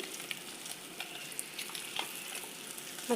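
Steady oil sizzle and crackle of rohu fish frying in a pan, with occasional sharper pops, fairly close and continuous with no talking.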